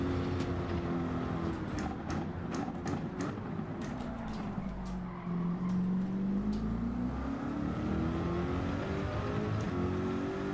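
Race cars in Gran Turismo 7 run steadily with sustained engine drone whose pitch dips and climbs through gear changes, loud and continuous throughout, with occasional sharp ticks over the engine tone.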